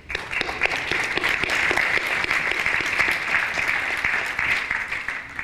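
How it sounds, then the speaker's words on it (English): A large crowd at the European Parliament claps steadily and continuously for a visiting prime minister, a dense, even wash of applause from start to finish. "we should really welcome the Prime Minister with a round of applause"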